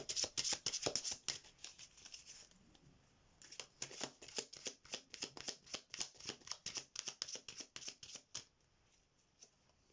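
Tarot oracle cards being shuffled and drawn, a rapid run of crisp riffling flutters and taps close by, pausing briefly before a long even burst of shuffling that fades out at the end.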